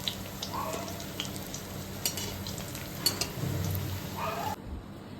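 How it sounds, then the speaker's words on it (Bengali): Eggplant fritters (beguni) frying in a pan, a steady soft sizzle with occasional stirring clicks and scrapes, close and moderate in level, with no talking. "এবার বেগুনিগুলো আর একবার করে ভেজে নেব"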